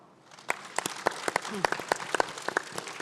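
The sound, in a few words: audience applause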